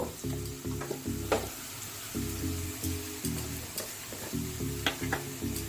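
Softened onions with chili powder fry in a pan, a steady close sizzle broken by rhythmic scraping stirs every second or so, with occasional sharp clinks of the utensil.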